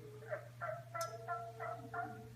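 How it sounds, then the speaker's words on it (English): A turkey hen or jake gives a steady series of six clucking fall yelps, evenly spaced and moderately close, over a low constant hum. "So this is a hen or jake turkey in the fall."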